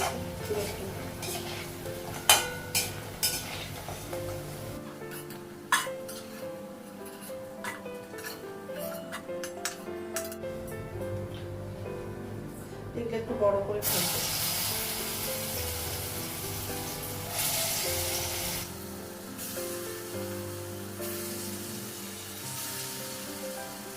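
Kitchen clatter with stirring and utensil scrapes over a steady sizzle of fritters frying in a pan on a gas stove, with a sharper hiss swelling midway.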